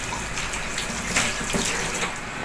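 Chopped aloe vera pieces going into water, heard as a steady, close pouring and splashing wash of water that runs continuously without pause, loud and unbroken, with no voices.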